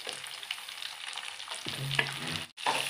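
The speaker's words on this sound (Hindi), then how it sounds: "अब मैं इसमें सूजी ऐड करूंगी जो हमने भून लिया था।" Semolina and vegetables fry in a pan for veg suji upma, a soft continuous sizzle with scraping stirring sounds and a brief metallic clink near the end, close and without talk.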